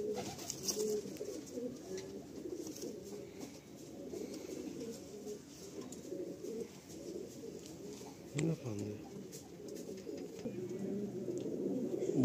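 Fulsira pigeons in a loft keep up a low, murmuring coo, faint and continuous in the background, with a brief voice or shuffle near the middle.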